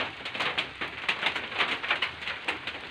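Rain falls on a roof over a farm field, a close, dense patter with irregular heavier drips and taps pulsing steadily over a soft hiss.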